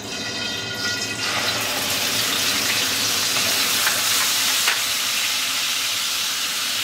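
Onion paste hitting hot oil for a Bengali hotel-style fish curry, a sudden loud hissing sizzle that settles into a steady, close frying roar.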